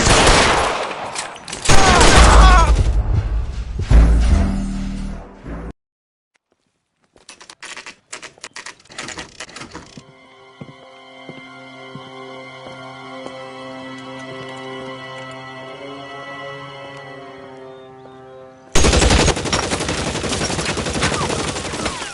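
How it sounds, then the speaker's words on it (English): Gunfire in the LA Noire video game: loud, rapid bursts of shots at the start, a short silence, then sparse cracks over a tonal backdrop, before another dense, loud burst at the end. "Shots fired."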